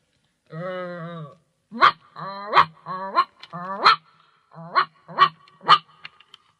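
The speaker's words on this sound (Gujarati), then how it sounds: "તે એકલવ્યને જોઈ અને ભસવા લાગ્યો" A dog barks in a children's story, opening with a drawn-out whine and then breaking into a series of sharp, loud barks, close and alone with no talk.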